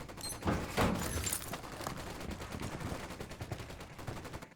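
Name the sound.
machine gun firing in Ghost Recon Wildlands video game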